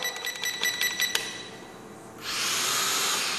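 A Syma X5C quadcopter drone gives a few faint, tonal motor whines, then spins up into a steady, loud, high rushing rotor whir that continues to the end.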